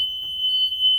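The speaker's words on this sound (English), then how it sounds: "check and make sure the handle functions properly and the alarm sounds" Steady, piercing high-pitched electronic tone from a school bus rear emergency door alarm, sounding continuously and close without a break.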